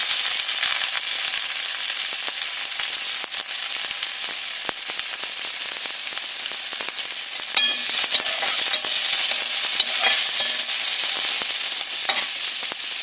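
Mustard seeds, white and black, with chopped onion frying in hot oil: a loud, steady close-up sizzle with occasional crackles and pops and scraping stirs, continuous throughout with no voices.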